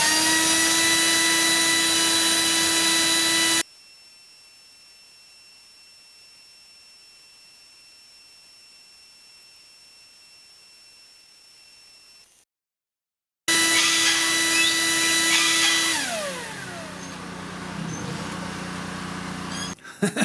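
A Makita 40V cordless leaf blower running at high speed, a loud whining roar that cuts to near silence, then returns and spins down with a falling pitch before a final burst.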